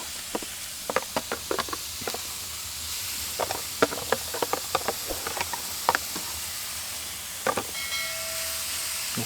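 Steak coated in Montreal steak seasoning sizzles steadily on a smoker grill, a continuous hiss broken by frequent sharp crackles and pops, moderately close with no talking.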